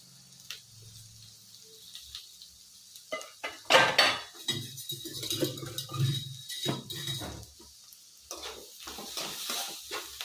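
A spoon stirs chaat masala, pepper and spices into a capsicum and curd gravy, making irregular soft scrapes and metallic clinks against the pot, close up and fairly quiet.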